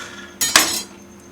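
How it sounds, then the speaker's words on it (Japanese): A knife cuts beef in half on a plate, giving two quick, close metallic clinks and a brief scrape against the dish, with no talk. "牛肉半分に切っておきましょう。"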